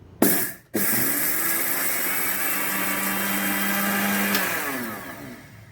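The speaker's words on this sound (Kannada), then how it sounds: "ಸಾಸ್ ಆಫ್ ಮಾಡಿ ಇದನ್ನು ಮಿಕ್ಸಿ ಮಾಡ್ಕೊಂಬರೋಣ ಪೌಡ್ರ್ ಮಾಡ್ಕೊಂಬರೋಣ" A mixer grinder grinds roasted spices to powder, whirring loudly and steadily after a brief start and stop, grinding for several seconds before winding down; no talking.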